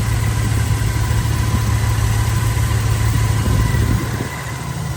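A 1986 Dodge Ram D150 pickup with dual exhaust idles smoothly, a steady low engine hum close by that drops slightly in level near the end.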